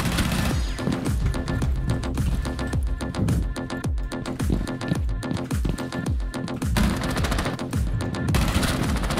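Loud automatic gunfire from the tactical shooter Rainbow Six Siege, long rattling bursts and repeated shots hammering almost without pause, with heavy booming impacts underneath.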